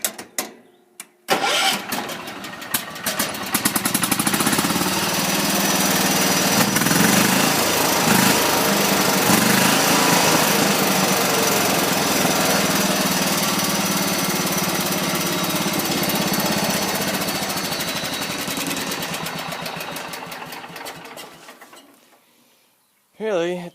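A 1984 John Deere 210 lawn tractor engine cranks, starts and runs at a steady loud rev for about twenty seconds before being shut off, heard close up with no talking.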